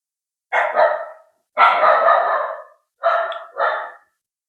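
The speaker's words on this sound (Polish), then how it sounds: "piesek szczeka" A small dog barks three times in close, loud bursts, the last a quick double bark, with silence between them.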